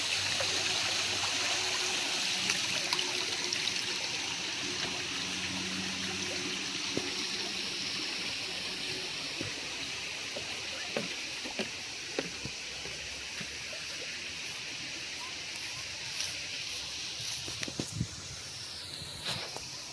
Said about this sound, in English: Waterfall area over there.